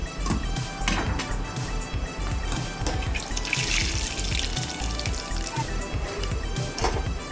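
Cashews fry in hot oil in a pan, giving a dense, bubbling crackle with frequent small pops and spatters, close and continuous throughout.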